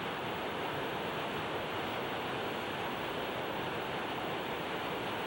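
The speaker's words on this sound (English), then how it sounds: "anytime you have a dam coming up or a major rock outcropping with some white water, it's pretty noisy" White water rushes steadily near a dam on the Blackstone River, a dense, even roar that holds constant throughout with no voices or breaks.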